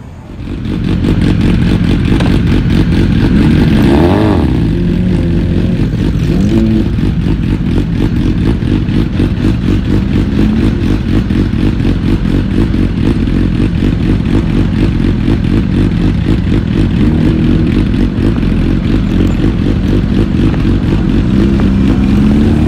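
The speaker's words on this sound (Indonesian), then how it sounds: "Sifu punya motor R6 baru siap tune, kita tengok hari ni." A tuned Yamaha R6 sport motorcycle engine runs loud and close for the whole stretch, a steady high-revving drone with a brief rising surge near the start, no voices.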